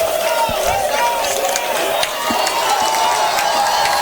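Football crowd at a Wilmington Fighting Quakers home game against Baldwin Wallace, a steady roar of cheering voices spread across the stands with occasional shouts and thumps, loud and continuous throughout.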